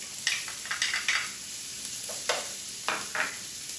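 Minced shallot and garlic sizzling in hot butter in a pan, an even crackling fry punctuated by several quick scraping stirs, close and clear with no speech.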